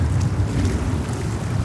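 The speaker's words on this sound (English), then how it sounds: "It is breezy, it is very windy." Strong wind roars steadily at an airport beside the runway, a dense low rumble of gusts buffeting the microphone throughout with no voices.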